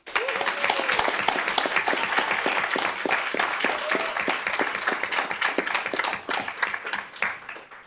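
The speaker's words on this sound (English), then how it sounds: "Let's give them all one big round of applause, please." Audience at a school board meeting gives a sustained round of applause, dense loud clapping from many people that holds steady for several seconds before thinning toward the end.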